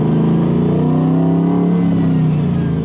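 Loud in-cabin engine note from a 1969 Chevrolet C10 truck with an LS3 V8 and six-speed gearbox, a rising rumble under acceleration that steps briefly in pitch midway, continuous and near with no speech.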